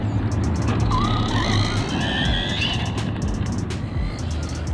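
Electric motor of a radio-controlled truck on light throttle, producing thin whining tones that rise and fall in pitch over a low rumble, with rapid ticking clicks from the drivetrain.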